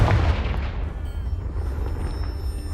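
A loud booming blast from the Confringo spell blowing apart a pile of debris in Hogwarts Legacy, a heavy explosion that rumbles and crackles as it decays over a few seconds.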